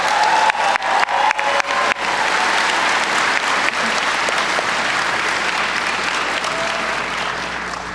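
Audience applause at a BronyCon 2014 convention panel, a few sharp early claps swelling into steady, loud, sustained clapping from a large crowd that holds for several seconds and slowly fades.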